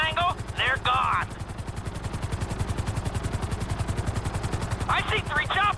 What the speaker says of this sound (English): I see three choppers! Three serious-looking choppers!